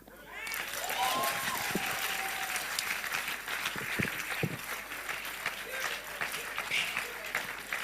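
A crowd claps steadily at a political rally for Peter Obi, sustained dense applause with cheering voices mixed in and someone talking over it.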